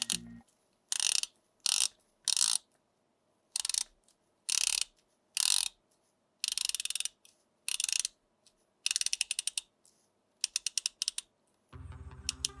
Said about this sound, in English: Well, it's a titanium bezel, so it's going to clickety-clack